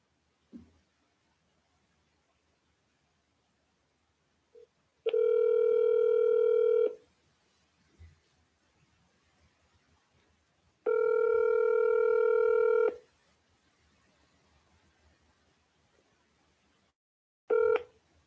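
Outgoing phone call with a short dialing blip, then two long steady ringback tones separated by quiet, and a third tone starting at the very end; clean and close, with no talk.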